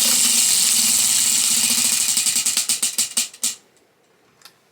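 A prize wheel with a clicking pointer spins, its rapid ticks slowing and spacing out until it clicks to a stop, followed by a faint thump.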